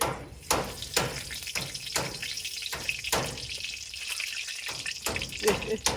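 Potatoes fry in a pan for a pointed gourd and prawn curry, a steady close sizzle broken by regular sharp knocks and scrapes of stirring.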